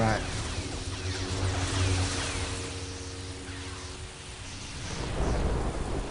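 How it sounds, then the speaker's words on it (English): Heavy rain pours steadily in Star Wars Galaxies, a dense hiss throughout with low thunder rumbling underneath and swelling again toward the end. "This rain can't get any heavier, can it?"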